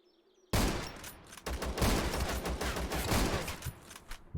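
Gunfire in ZERO Sievert: after a quiet moment, a sudden burst of rapid shots breaks out, then sustained automatic fire with repeated sharp cracks continues loudly to the end.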